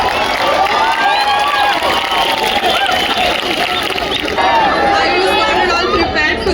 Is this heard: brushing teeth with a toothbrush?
no